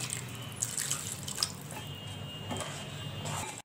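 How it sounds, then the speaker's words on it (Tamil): Water poured into a pan of cooking crab for a crab coconut masala: a steady, continuous pour splashing and hissing for several seconds, close by and alone before it stops abruptly. "அந்த நண்டு வேகிறதுக்காக கொஞ்சம் தண்ணி ஊற்றுறேன் நான்."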